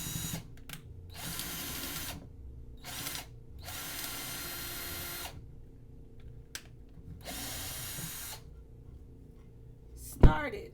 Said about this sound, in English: I actually need to bore holes in the first one